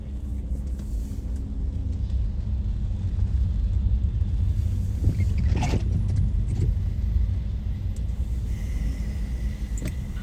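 Steady low rumble of passing cars and engines on a busy city street in Dnipro, with a louder vehicle swelling by midway; no talking.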